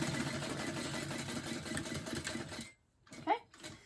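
A sewing machine runs steadily while top stitching a purse, a close mechanical whir that stops abruptly and is followed by a short voice.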